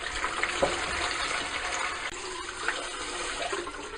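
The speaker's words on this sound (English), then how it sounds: "Step 1, fill a bowl with cold water." Cold tap water runs steadily into a bowl for a mozzarella and tomato salad, a close, continuous gushing stream lasting a few seconds with no voices.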